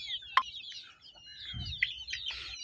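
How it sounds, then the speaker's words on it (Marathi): A rooster and chickens on a free-range poultry farm make a few faint clucks and short calls over quiet ambient background. "बघा आपला कोंबडा आहे"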